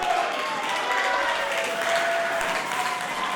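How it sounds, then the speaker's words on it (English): A capacity crowd at a wrestling show applauds, a broad continuous roar of clapping with cheering voices blended in, steady and loud across the whole stretch. "And applause from this capacity crowd here tonight."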